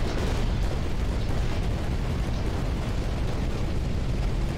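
Dense, continuous roar of explosions from a carpet cannon, an aerial destruction weapon in a video game, rumbling loudly and unbroken throughout with no pauses.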